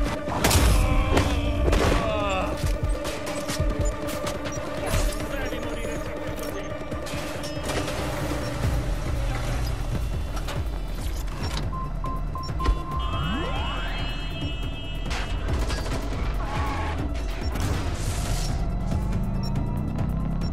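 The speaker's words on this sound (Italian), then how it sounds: "Fuochi d'artificio avevi là dentro?" Fireworks burst in the game Watch Dogs: Legion during a side mission assault, with a loud crackling barrage of pops and thumps at the start, then continuous rumbling bangs, whistles and scattered explosions over a busy background.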